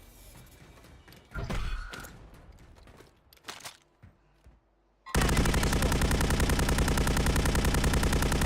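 Gunfire from a weapon in the video game Warzone: a few scattered, quieter mechanical clicks and thumps, then an abrupt switch to loud, sustained rapid automatic fire that keeps a steady, dense rattle to the end.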